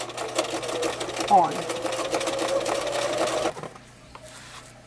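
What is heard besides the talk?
sewing machine stitching binding on a potholder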